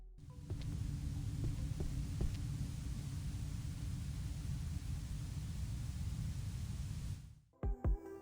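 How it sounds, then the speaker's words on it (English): A deep, throbbing horror ambience hum for an Unreal Engine 5 apartment scene rumbles low and steady for about seven seconds, then cuts off into a few short thuds. "the ambient background is a mix of deep rumbling and harsh or distorted textures that constantly creates discomfort"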